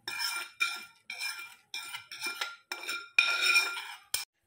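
A spoon mixes cooled tempering into yogurt for a tangy dahi chutney, giving a series of close, bright metallic clinks and scrapes against a bowl in short repeated bursts.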